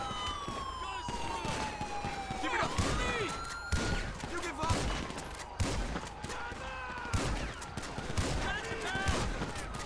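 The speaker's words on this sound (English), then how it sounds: "Big shootout, first thing." Shootout in the video game Grand Theft Auto V, with many sharp gunshots cracking irregularly and in quick clusters over wailing police sirens, near and loud throughout.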